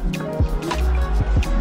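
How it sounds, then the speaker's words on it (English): Champagne pours into a glass with soft drips and a foaming, fizzy fill, a few light splashy pulses over about two seconds, close up. "Everybody knows you pour the champagne first."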